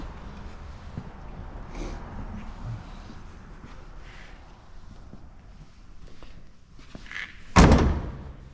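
Car door slamming shut on a twin-turbo Trans Am drag car, one sharp solid thud near the end after quiet shuffling and faint handling noises.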